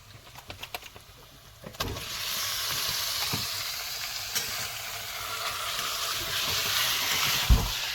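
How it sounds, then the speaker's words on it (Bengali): Chicken drops into fried masala at a night riverside picnic and bursts into a loud, sustained sizzle, preceded by a few light clatters and followed by occasional stirring knocks. "এবার দিয়ে দেবো চিকেনটা।"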